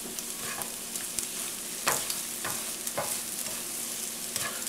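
Meatloaf hash fries in a pan with a steady sizzle, broken by repeated scraping strokes of a spoon or spatula stirring it, close and fairly quiet.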